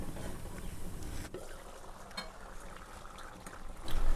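Curry with pirandai simmers in a covered pan, giving a steady close bubbling and hissing boil that swells slightly louder toward the end.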